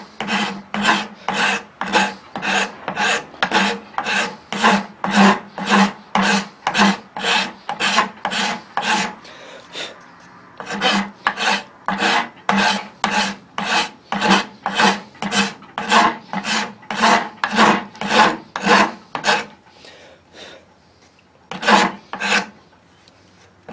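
Rhythmic rasping strokes of a file working a wooden knife handle from a flint and steel knife making kit, filed down to the metal; steady close strokes in two long runs with a short pause, then a few final passes, no talk.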